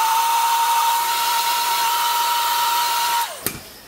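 A heat gun blows steadily while warming the vinyl skin on a DJI Phantom 2 drone, a loud continuous whine with airy hiss that cuts off near the end, followed by a brief click.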